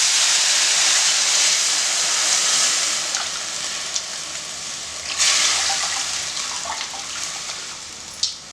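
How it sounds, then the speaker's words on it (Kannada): Water for rasam heats in a pot toward a boil, giving a steady broad hiss with faint bubbling and a few small clinks, close and continuous with no talking. "ರಸಮ್ ಇದಕ್ಕೆ ನೀರು ಕುದಿಯೋಕ್ಕೆ ಶುರು ಆಯಿತು"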